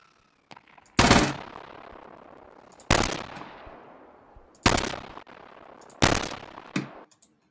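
Video game gunfire: four or five sharp, loud shots or short bursts spaced a second or two apart, each trailing off in a long echoing decay, with no talk.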